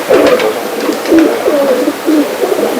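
A compact Teddy-breed pigeon coos close by in a few low, throaty bursts, the soft rolling calls repeating with brief pauses between them.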